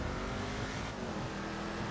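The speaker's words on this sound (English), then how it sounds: "I'm in a very powerful race car for the road" A powerful Vapid Dominator ASP race car in GTA 5 drives fast through traffic on a rain-soaked road, its engine a steady, loud, close roar for the whole moment with no talk.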